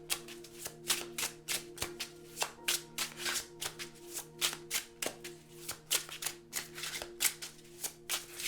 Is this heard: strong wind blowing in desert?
no